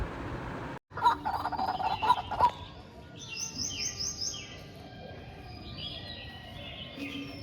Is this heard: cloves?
no